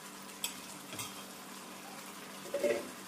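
Ginger garlic paste is stirred into chicken frying in a pan for a dhaba-style spinach chicken curry: a soft steady sizzle broken by a few scraping spoon strokes and clinks against the pan.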